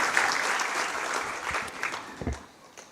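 Audience applause for a speaker at a corporate sustainability report launch, steady dense clapping from a large room lasting throughout and tapering slightly near the end.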